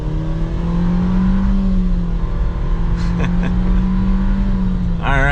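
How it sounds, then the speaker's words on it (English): A 2023 Nissan Versa SR's small engine with a CVT accelerates from inside the cabin, a steady loud hum holding an even pitch with a brief rise, heard close throughout. "putting that little engine to the test"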